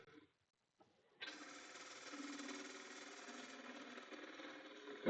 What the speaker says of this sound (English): Okay, we're going to reestablish a tenon. I'm going to do it somewhat with my bow gouge.